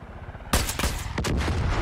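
Burst of rapid gunfire in the video game Far Cry 5 while shooting down a helicopter: dense, loud cracking shots that start abruptly and continue close up for over a second.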